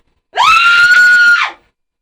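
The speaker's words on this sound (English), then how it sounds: "screaming because Iceland said send us your scream" A woman screams loudly and steadily for about a second, a single sustained high cry sent in for Iceland's scream campaign, standing alone with no talk around it.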